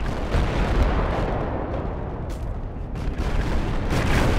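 Artillery area attack in the military shooter game Project Reality, loud continuous rumbling barrage with dense booms blending into a heavy roar.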